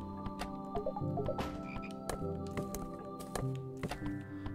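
Frogs croak repeatedly in a house-setting video game, a steady run of close, rhythmic croaks and clicks over a busy background of game music and effects.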